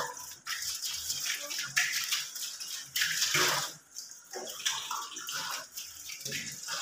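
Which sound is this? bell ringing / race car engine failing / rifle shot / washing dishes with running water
washing dishes with running water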